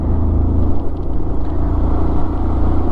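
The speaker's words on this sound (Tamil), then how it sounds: "அதனால தான் இவ்வளோ டிராஃபிக்." Dense road traffic on a hill road near Ooty with roadworks, heard from a moving motorcycle: a loud, steady rumble of engines and wind close by, with no talk.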